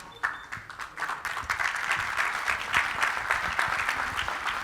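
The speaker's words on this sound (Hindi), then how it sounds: "ये तुम्हारे लिए बजा रहे हैं ताली" A room full of people breaks into applause that swells quickly and holds as a steady, dense clapping for several seconds, with a voice faintly audible underneath.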